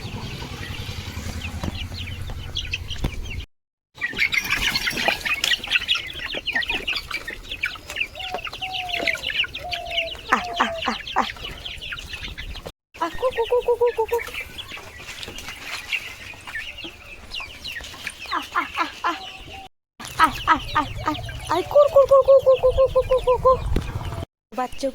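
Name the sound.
chickens clucking as they are let out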